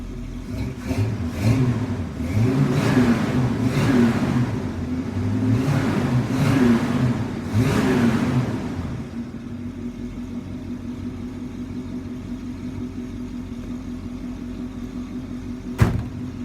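A 1971 Buick Skylark's original 350 V8 with four-barrel carburetor revs up several times in rhythmic swells, then drops back to a low, steady idle rumble, with a sharp click near the end.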